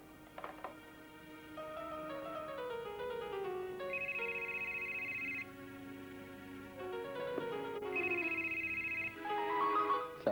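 A telephone rings in a Pakistani TV drama scene, with electronic ringtone tones sounding in repeated bursts over melodic background music and no talk.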